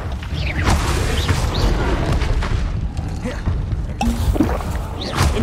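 Spell blasts in Hogwarts Legacy: Incendio, Glacius and Confringo fire off as repeated booming, crackling bursts and whooshes over a dense, loud game soundscape, with a sharp new impact near the end.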